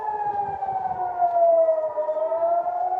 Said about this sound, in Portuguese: Estão ouvindo as sirenes aí.